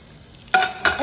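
Butter dropped into a hot frying pan gives two quick, loud sizzling bursts close up, bright and hissing, with a stirring scrape between them and no voice over it.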